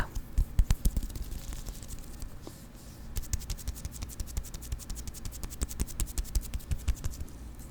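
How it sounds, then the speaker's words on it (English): Close, soft rubbing and patting of a gel cream onto skin, with fine scratchy strokes and light pats in an irregular rhythm, whispery and intimate, with no voice. "I do like a mix of patting and rubbing."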